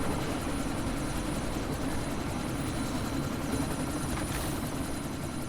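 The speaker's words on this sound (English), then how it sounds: "That chopper's about to take off!" Helicopter about to take off in the Deus Ex Mankind Divided video game, a steady dense rotor and engine roar filling the scene without pause, with wind-like noise throughout.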